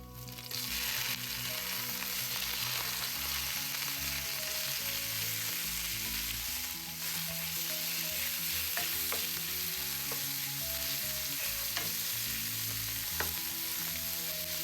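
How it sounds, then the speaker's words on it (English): Ground pork sizzles in a pan with garlic as it is stir-fried for a water spinach dish, a steady close hiss of frying that runs throughout under soft background music, with no talking. "I will stir fry the ground pork until it becomes partially cooked or almost cooked"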